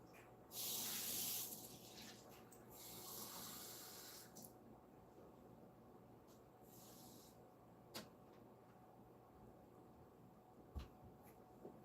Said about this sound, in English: I need to change my water out, so give me 1 second to get rid of this old bean water